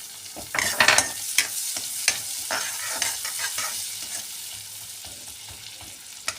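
Chopped onion sizzling in a pan with cumin seeds, stirred with sharp scraping clacks early on, then a steady fry that carries on alone with no voices.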